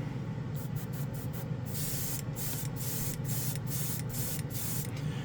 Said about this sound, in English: TS14 black in the spray can.